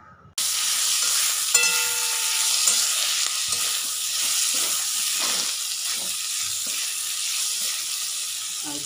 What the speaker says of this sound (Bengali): কেটে নিয়েছি, এটাকে ভাজা বসাবো।